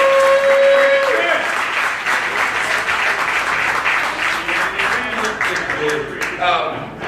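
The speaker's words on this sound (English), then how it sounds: "Please, can we give him a round of applause?" Party audience giving a round of applause for mayor Randy Taylor, loud continuous clapping from a crowd, with a speaking voice heard at the start and other voices mixed in as the clapping continues.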